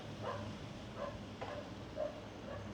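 A dog barks on a street in Conwy in December, several faint, evenly spaced barks heard at a distance over steady low traffic rumble.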